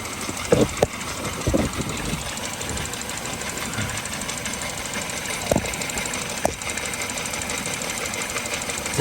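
A small mini water pump runs with a steady mechanical hum and rattle, broken by a few sharp knocks and clunks as a plastic bar and connected wheel spin, heard close and without talk.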